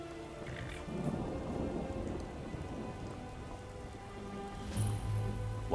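Steady rain patters on surfaces throughout in Skyrim, with low rumbling thunder rolling underneath and a louder crack near the end.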